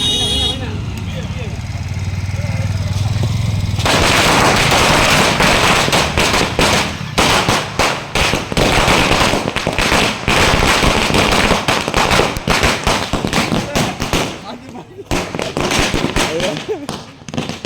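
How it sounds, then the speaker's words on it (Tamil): Firecrackers burst in a rapid, crackling barrage, loud and close, starting after a few seconds of background noise and continuing densely with sharp pops, while people talk and shout nearby. "பட்டாசு என்ன வாங்குனீங்க?"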